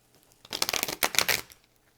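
Tarot cards are shuffled close up, a quick burst of crisp riffling and flicking slaps lasting about a second, then settling back to quiet.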